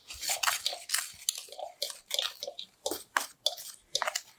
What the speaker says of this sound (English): I'm going to go ahead and stir all of these dry ingredients together